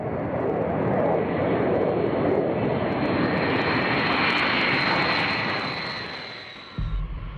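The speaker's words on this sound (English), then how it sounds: "Here is why no one wants to fight the B-52 bomber." A B-52 bomber's jet engines roar in a loud, broad, steady rush that fades slightly near the end before a brief low thump.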